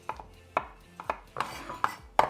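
A large chef's knife rough-chops mushrooms on a cutting board, giving about eight crisp, close knocks at an uneven but steady pace, with no talking.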